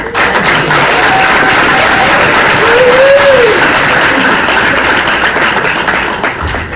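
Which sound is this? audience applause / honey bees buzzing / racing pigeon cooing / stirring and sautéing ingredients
audience applause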